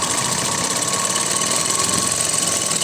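A sewing machine runs steadily, stitching a floral frock with a continuous fast mechanical whir and rhythmic needle chatter, close and moderately loud, with no pauses.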